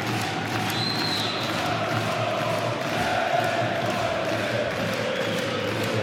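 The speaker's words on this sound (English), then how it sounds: "Crowd are in full singing now as the second line player goes in" Handball arena crowd at a European championship match between Poland and Serbia, a dense, steady roar of massed voices singing and chanting throughout, loud and continuous with no pauses.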